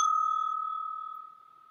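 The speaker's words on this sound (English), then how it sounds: "It was a bell." A single clear bell tone marks a scene change in a comedy show. It strikes once and rings with a pure sustained pitch, then fades slowly with no other sound around it.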